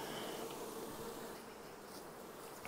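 A swarm of honeybees buzzes steadily around a hive in extremely hot weather, a dense continuous hum close by with no talking.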